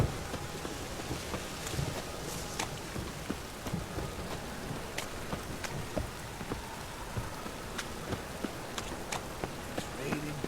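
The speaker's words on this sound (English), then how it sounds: "It's raining buckets." Heavy rain pours steadily and densely, a continuous hiss with scattered louder drops and faint distant rumbles throughout.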